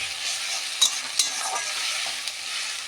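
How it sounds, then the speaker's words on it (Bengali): Chopped tomatoes frying with onions in a pan, a steady bright sizzle with a few sharp spatula scrapes and stirring knocks. "টমেটোটা একটু পেঁয়াজের সাথে ভালো করে একটু ভেজে নেবো।"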